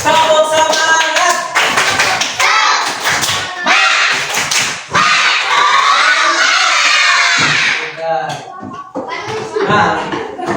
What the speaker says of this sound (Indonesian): Ayo anakku, tepuk semangat.